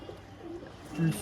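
Caged pigeons for sale coo softly in a short burst, with a low throaty call swelling near the end while someone talks over them.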